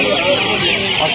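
Chickens cluck in a busy poultry market, a dense, close chatter of fowl under people talking nearby.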